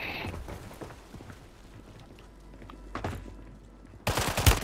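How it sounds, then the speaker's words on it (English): Video game gunfire in a battle royale match, a faint rattle of distant shots through most of the stretch, then a louder close burst of rapid firing at the end. "They're shooting at me."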